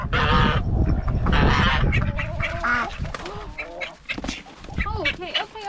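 Loud, repeated goose honks close by on a farm near chickens, harsh and nasal, coming in bursts with short pauses between calls.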